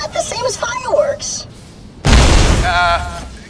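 Explosion in the video game Borderlands: The Pre-Sequel, a sudden loud broadband boom that erupts after a stretch of talk and sustains as a rumbling roar with some tonal ringing.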